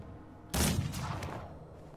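A single sharp gunshot in the Mordheim video game, a sudden loud crack after a quiet moment, followed by a short rumbling, fading tail.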